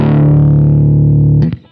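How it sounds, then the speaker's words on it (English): Electric guitar played through a modified Boss GE-7 equalizer pedal: a loud, thick sustained chord with a boosted, reshaped tone, then cut off by a couple of quick muted scrapes near the end. "just with the GE-7, we've been able to completely change the EQ of the guitar sound, and then also add in just volume with that gain slider"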